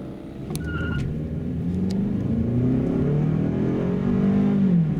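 A 2015 Toyota Camry 2.5 running on LPG through a Landi Renzo gas system accelerates hard, its engine note climbing steadily in pitch and loudness over several seconds.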